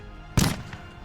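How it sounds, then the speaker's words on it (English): A single muffled gunshot from a nearby building during a tabletop role-playing game, heard as one sharp, dull boom with a short fading tail and nothing else around it. "You hear a muffled gunshot from a nearby building."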